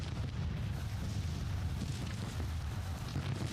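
Artillery fire rumbles in the Civil War strategy game Grand Tactician: The Civil War, a dense, continuous low booming wash of distant cannon blasts with no clear gaps between shots.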